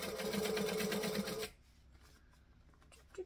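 A sewing machine fitted with a plastic Teflon presser foot stitches close to the fabric edge in a steady, rapid run for about a second and a half, then stops, leaving faint handling noise.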